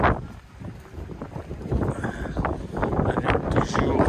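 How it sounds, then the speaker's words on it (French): Strong wind buffets the microphone on castle ramparts at Sintra, a loud continuous roar with gusty swells and a voice speaking under it. "Avec toujours plein de vent. C'est désagréable le vent."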